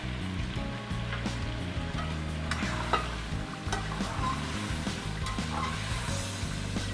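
Chicken karahi with yogurt is stirred in a pan and sizzles steadily, with scraping strokes of the spoon across the full length, under continuous background music.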